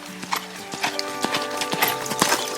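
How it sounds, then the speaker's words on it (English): A 15-year-old quarter horse walks under a rider, its hooves striking in a steady, close clip-clop rhythm over a faint background hum. "She's riding 15-year-old Goober, a quarter horse."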